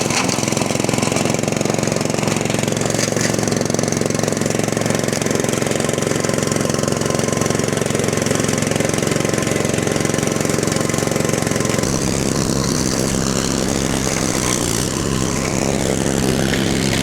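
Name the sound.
remote-controlled RC lawn mower engine running while mowing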